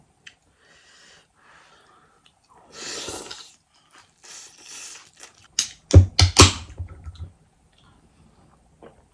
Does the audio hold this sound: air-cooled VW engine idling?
no